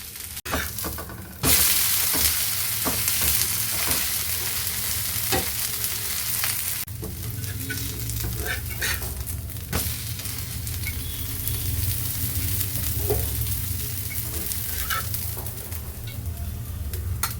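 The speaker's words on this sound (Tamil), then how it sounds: "இப்போது தோசை நல்லா ரோஸ்ட் ஆகிடுச்சு இப்போ நம்ம அதை திருப்பி போட்டுக்கலாம்" A moringa leaf dosa roasts on a hot pan with a continuous close sizzling hiss throughout, broken by occasional faint ticks and crackles. A sudden loud burst near the start settles into steadier frying, with no voices.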